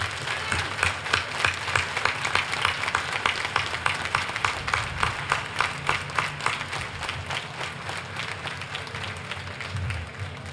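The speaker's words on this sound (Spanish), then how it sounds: "Yo quiero que de pie le demos un fuerte aplauso al Banco Popular Dominicano." An audience stands and applauds Banco Popular Dominicano at a park inauguration, the clapping settling into a fairly regular, rhythmic beat at moderate distance before thinning slightly toward the end.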